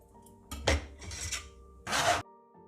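Onions chopped finely with a kitchen knife for a family minced-meat dish: a few close, broadband rasping scrapes and cuts in bursts, with a long scraping stroke near the end and brief quiet gaps between.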